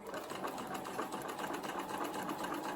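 A sewing machine runs steadily at close range, stitching a skirt seam just inside the pocket stitching, with a continuous even whir and no pauses.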